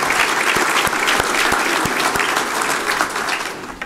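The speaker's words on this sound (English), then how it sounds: "please applaud" A crowded room at the 2018 Madison County Republican Party Reagan Day Dinner in Jackson, Tennessee breaks into loud, sustained applause with a few sharp individual claps standing out, then fades slightly near the end.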